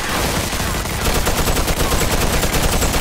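Rapid, continuous gunfire from Mafia 2 crackles loudly in a dense, steady stream of overlapping shots with no pauses.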